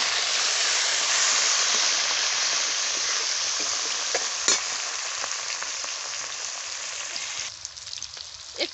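Chopped tomato frying with ginger in a pan, a strong, even sizzle that eases gradually, with occasional spatula scrapes and a brief sharp clink midway.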